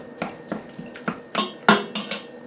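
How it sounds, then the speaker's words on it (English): Ground beef for lasagna dropped into a pan to cook over medium heat, heard as a series of sharp clanks and scrapes of utensil against cookware at a steady pace, fairly close and clear, without talking. "I'm going to take my pound of ground beef right there. I'm going to toss that right in."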